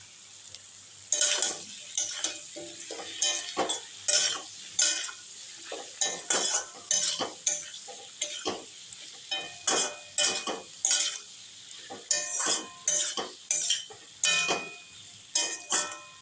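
Chillies frying on low heat in a salted pan, a light sizzle beneath a rapid series of sharp spatula scrapes and taps against the pan, rhythmic and close, with no voices.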